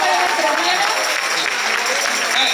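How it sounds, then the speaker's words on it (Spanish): Audience applause in an amphitheatre at a Catholic Charismatic Renewal anniversary gathering in Chile, a loud continuous clapping that stays dense and even from start to finish. "aplausos"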